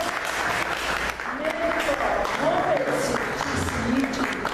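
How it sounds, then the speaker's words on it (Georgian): An audience claps warmly throughout at a poet's book presentation at the Writers' House, a dense steady round of applause indoors, with voices speaking over it. "აპლოდისმენტები"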